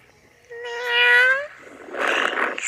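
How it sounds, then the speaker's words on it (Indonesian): A cat's meow generated by a voice-changer app, one drawn-out tonal call with a rising, bending pitch, followed by a short rougher, noisier cry, close and fairly loud with no talk. "Suara kucing."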